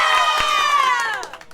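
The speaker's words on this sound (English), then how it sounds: "Her teammates were joining her and cheering on every single answer" High school basketball teammates cheer and shout excitedly together, a loud, close burst of young voices that rises and then trails off into scattered calls.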